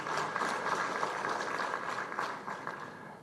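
A conference crowd in Uganda applauds with a dense, fairly quiet patter of clapping that holds steady for a few seconds, then thins slightly.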